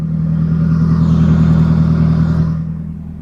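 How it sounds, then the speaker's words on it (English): Nissan KA24E four-cylinder engine idling after its MAF sensor was cleaned, a loud, close, steady low throb with a slight swell and fade. "if I lower my window, that idle sounds so much better though"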